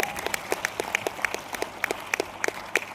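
An audience applauds a vice chancellor at a road safety awareness campaign, giving sparse, moderately distant claps that come as separate sharp hits rather than a dense roar.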